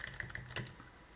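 Someone types quickly on a computer keyboard in a browser, producing a quick, light patter of key clicks that is close and faint, with no talking.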